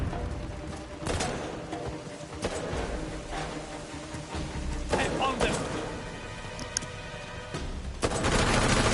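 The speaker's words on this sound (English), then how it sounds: "Who's shooting me?" Gunfire in the video game Uncharted: The Lost Legacy, a barrage of rapid automatic bursts and booming shots that carries on for several seconds, with a player speaking over it.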